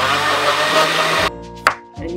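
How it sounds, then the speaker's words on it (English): A kitchen blender runs with a loud, dense whirring roar, used while making baked Vidalia onion rings, then cuts off abruptly, followed by a single clunk and a faint lingering hum. "We put our blender on."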